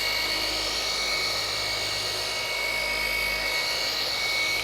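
A dual action buffer/polisher buffs a car's paintwork with a loud, steady high-pitched motor whine that holds evenly throughout, close to the microphone with no talking.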